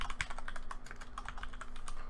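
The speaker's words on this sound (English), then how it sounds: "that microphone might be a bit too close to my keyboard" Computer keyboard keys clack in a quick, uneven run of taps, loud and close to the microphone, with a faint steady hum underneath and no talking.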